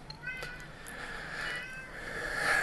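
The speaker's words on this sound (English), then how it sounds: "One of our cats is whining at the door because he feels excluded from the podcast recording today." A male cat whines and meows at a closed door during an indoor podcast recording, a series of drawn-out, rising cries that get louder toward the end, with no talking over them.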